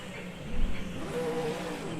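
A V8 Supercar accelerates away from its pit stop at Bathurst with a brief engine surge. The sound is moderate and somewhat distant, set against steady background noise.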